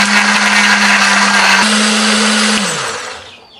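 An electric blender grinds a spice paste of garlic, shallots, ginger and turmeric with a little water, a loud steady whirring whine that holds for about three seconds, shifts pitch slightly, then winds down and fades.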